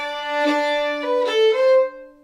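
Solo fiddle plays a melodic variation at the start of the A part of the Temperance Reel, bowed notes in a smooth phrase lasting about two seconds, close and clear with no talking.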